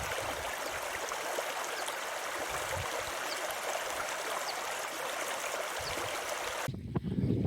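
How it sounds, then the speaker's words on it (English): Steady rushing and trickling of moorland brook water where two Dartmoor streams, Fur Tor Brook and Amicombe Brook, meet near Sandy Ford, a continuous close wash that ends in a brief low rumble at the close. "I'm now at the point where Fur Tor Brook meets Amicum Brook"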